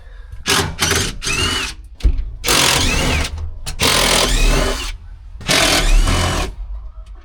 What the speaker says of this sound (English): it's literally just all these bolts around here, so I've managed to use the drill